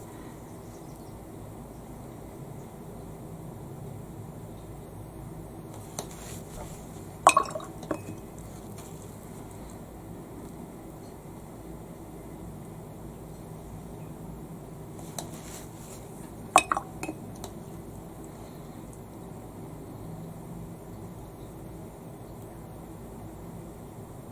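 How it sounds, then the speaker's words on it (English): A paintbrush swirled in a glass of water and tapped against the rim during a color portrait session, with faint sloshing and two brief clusters of glassy clinks over quiet room tone. "I swirl my brush and I wipe it off on one edge there"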